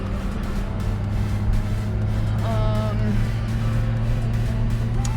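A car towing a Grand Design RV travel trailer down a tree-lined forest road in Florida gives a steady, loud, continuous road and engine drone that stays even throughout.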